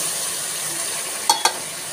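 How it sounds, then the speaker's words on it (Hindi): Chicken pieces go into a pan of fried tomatoes for a dhaba-style chana dal chicken, a steady close sizzle broken by two quick clattering knocks near the end. "ये टमाटर हमारे अब भून चुके हैं, अब हम चिकन शामिल कर देंगे।"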